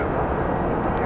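A passenger plane lands at Phoenix Sky Harbor airport, its engine roar a loud, steady broadband rumble filling the whole moment without a break.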